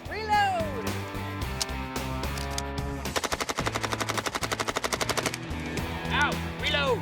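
Continuous gunfire with reloading in a MythBusters test: rapid bursts of shots forming a dense rhythmic rattle in the middle, framed by mechanical clatter, music-like tones and brief voices.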